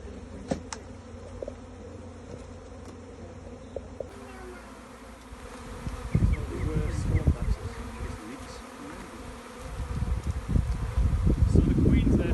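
A honeybee swarm buzzes steadily throughout while it is being collected into a hive, a dense insect drone growing louder and closer in the second half, with rustling and handling noises.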